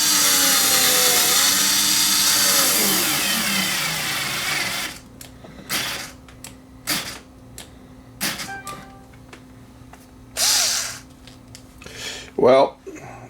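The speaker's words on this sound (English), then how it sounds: "Let's see how well this drives the screw in." JoustMax cordless screwdriver driving a screw into a wooden wall stud: after a stretch of talk, several short, sharp whirring bursts follow with pauses between them, the last one straining hardest.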